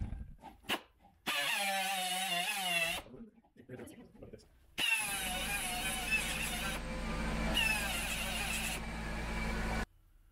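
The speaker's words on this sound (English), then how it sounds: "we're going to go ahead and die grind out that little area so that the bumper fits and clears" Die grinder trimming a truck hood so a TMW X3 PreRunner bumper fits, a loud, steady high-pitched whine that runs for several seconds in two long bursts, with someone talking between them.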